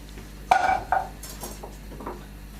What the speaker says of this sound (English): Put the swede into a pan.